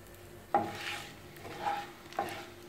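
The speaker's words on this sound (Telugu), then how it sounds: "నూనె హీట్ అయిన తర్వాత whole garam masala spices add చేస్తున్నాను. వీటిని కొంచెం వేపుకుందాం." Whole garam masala spices frying in hot oil in a pot for vegetable biryani, with a quiet, steady sizzle broken by three distinct stirring scrapes of a spoon.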